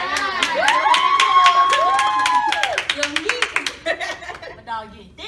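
An audience cheers, whoops and shouts with scattered clapping, loud and lively with voices rising over it, thinning to sharp individual claps near the end.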